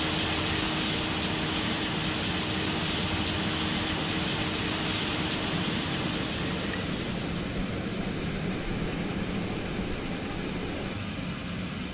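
A DHC-6 Twin Otter turboprop in a flight simulator runs as a steady, dense broadband roar and hiss that eases slightly partway through, loud and constant with no voices.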